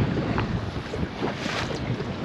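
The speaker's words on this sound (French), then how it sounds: "c'est sur un bon coup de vent bien frais que cette belle partie de pêche se termine" Strong, fresh wind blowing at sea on a fishing boat, a steady roar of gusts buffeting the microphone with water and hull noise underneath, continuous and loud with no voices.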